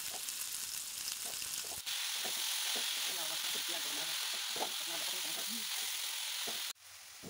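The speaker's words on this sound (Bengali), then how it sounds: "দেখো মা এবার মোচাটাকে বেশ কিছুক্ষণ মশলাটার সাথে কষে নেবে" Boiled banana flower and potato sautéed with spice paste in a pan for a Bengali fish-head dish, giving a continuous loud sizzle with scattered stirring scrapes, cut off briefly near the end.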